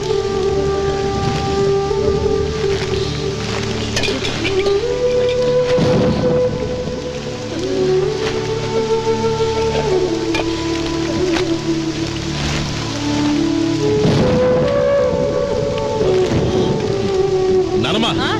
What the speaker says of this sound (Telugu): ఇప్పుడు అర్ధంతరగా ఈ వర్షం పట్టుకుంది